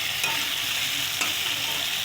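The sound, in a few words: frying spice paste with pointed gourd in a pan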